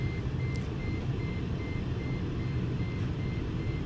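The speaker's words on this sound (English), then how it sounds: "there's nothing, there's no open door, nothing that should be beeping." Steady electronic beeping repeats in an even rhythm, about two per second, over a constant low engine-like rumble inside a vehicle; no one speaks.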